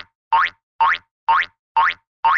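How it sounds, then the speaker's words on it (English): Cartoonish springy boing effect, a bouncing sound repeating five times at a steady pace, each bounce rising in pitch, clear and alone. "You'll hear me bounce seven times, but I only count every seventh number I land on."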